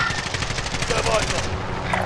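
Rapid automatic gunfire rattles in Call of Duty Warzone, a fast, evenly spaced burst of shots that is loud and close, then drops off near the end.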